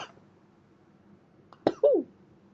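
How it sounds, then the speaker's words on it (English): A short sharp cough bursts out close and loud, followed right away by a strained throat-clearing gasp, with near silence before it. "I'm coughing on air."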